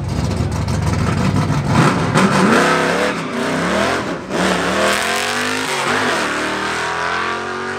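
A drag race car launches hard off the line at the Woodburn Dragstrip during Mopar Nationals, its engine roaring loud and close, then revving through gear changes as it pulls away with a brief dip before droning on.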